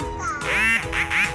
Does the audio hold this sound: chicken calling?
yes